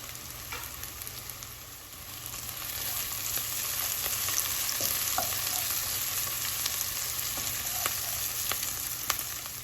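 Onion, garlic and ginger sizzle in a pan for a vegetable soup, a steady close frying hiss with small pops and crackles throughout.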